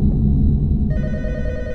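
A telephone rings inside the Roblox horror game The Intruder, a bright electronic ring with sustained tonal pulses over a low rumbling ambience, loud and close.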